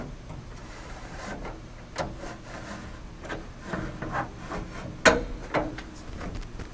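Side window of a 1955-1959 Chevy truck being rolled down by its crank mechanism, an uneven series of soft rubbing and scraping strokes with a few sharper clicks and knocks, close and quiet.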